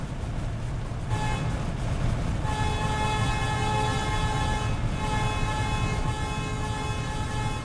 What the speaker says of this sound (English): I've honked it well enough